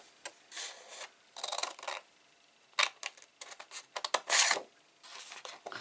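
Patterned paper being trimmed for a mini recipe box, a series of short close rasping cuts and scrapes in uneven bursts with quiet gaps between, no talking.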